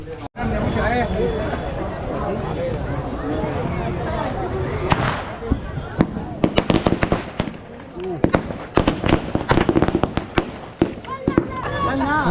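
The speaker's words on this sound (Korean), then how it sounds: "애들이 폭죽을 터뜨려줘가지고" Sharp firecracker bangs pop repeatedly over a busy crowd murmur by the Ganges in Varanasi, India, the blasts coming in irregular bursts, some close and loud, others quicker and scattered.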